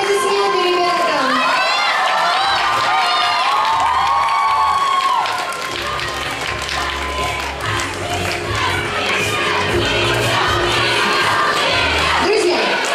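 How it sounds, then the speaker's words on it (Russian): A youth contest audience applauds and cheers, dense clapping mixed with shouts and children's voices, while a presenter's voice carries over the top at first. "Аплодисменты, ребята."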